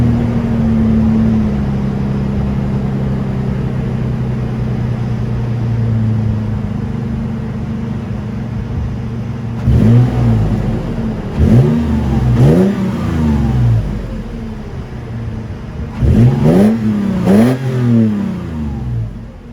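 Cold start of a 2020 Toyota 4Runner TRD Pro, its engine idling steadily at first, then blipped through several sharp revs in quick pairs, loud and close with no talking.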